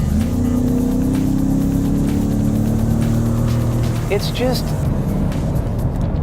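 A 2017 Ford Raptor truck, with an engine that differs from the old V8, accelerates as a driver talks over the muted, steady engine drone that builds in pitch, heard from inside the cab.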